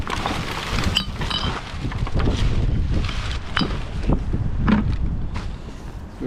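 Gusty wind blows across a roadside during a litter cleanup on Furnace Ave, a steady loud buffeting rush with scattered clicks and rattles of loose debris, with no talking.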